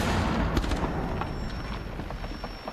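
A flashbang grenade goes off in a competitive tactical shooter video game match, a loud, dense blast-like roar with crackling texture that fills the whole moment and fades slightly toward the end.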